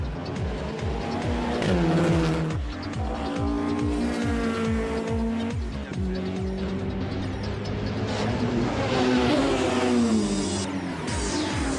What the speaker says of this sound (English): A variety of racing cars and drivers from all over had gathered here once again.